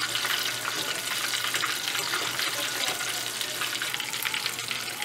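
Battered rock shrimp deep-fry in hot oil with a loud, steady, dense sizzle and crackle that fills the whole stretch, alone without talk.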